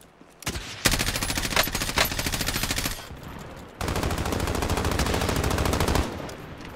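Rapid automatic gunfire from Call of Duty Warzone, two sustained loud bursts of fast repeated shots separated by a brief pause, close and dense, with no talk over them.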